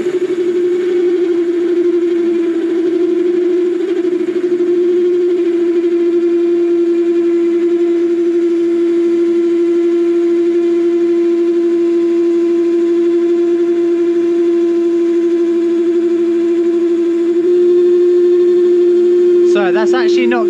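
A Warco WM180 metal lathe runs at about 750 rpm taking a 0.2 mm cut, a steady, loud tonal hum and whine that holds constant for the whole stretch.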